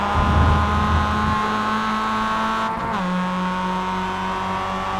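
Mazda race cars in a tight six-car pack at Road America roar past with sustained high-revving engine drones, one steady pitch shifting as a car passes close, loud and continuous with no talk.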